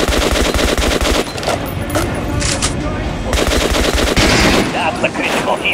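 Sustained automatic gunfire from the Metro: Last Light Redux video game, rapid repeating shots close and loud, with brief gaps and other game effects mixed in.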